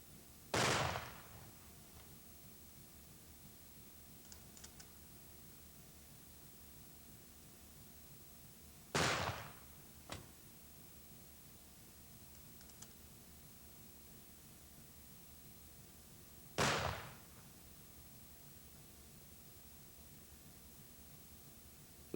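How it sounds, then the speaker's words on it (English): Rifle volleys from a firing party at an Air Force graveside funeral: three sharp, distant cracks spaced about eight seconds apart, each with a brief echo, over quiet outdoor ambience. "The funeral director then alerts the family to the firing of the volleys, which will now be executed by the firing party."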